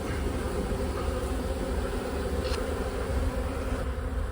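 Honeybees from an installed package hum steadily around a Ukrainian hive, a dense continuous buzz close by with no pauses.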